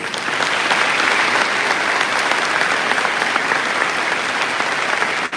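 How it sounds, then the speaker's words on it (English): Loud, sustained applause from a large crowd at a high school graduation ceremony, dense and even from start to finish, cutting off abruptly at the end. "Round of applause, please."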